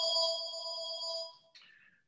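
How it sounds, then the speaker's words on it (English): A phone plays an electronic ringtone, a bright tonal burst that holds for over a second, breaks off, then gives a short second chirp. It is fairly faint, with no voices. "Excuse me while I turn this other phone off."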